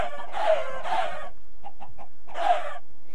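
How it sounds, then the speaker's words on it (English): Chickens in Minecraft give a few close, loud clucks, three longer calls with short soft clucks between them, and no voices. "get some more chicken up there, or chickens"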